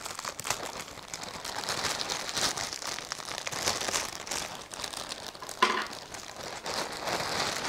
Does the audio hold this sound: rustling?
yes